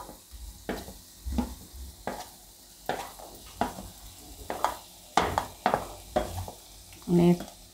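Capsicum and green beans fry in a pan for a Gujarati mixed vegetable shaak, giving a steady low sizzle punctuated by repeated scraping stirs of a spoon against the pan, with a louder clatter near the end.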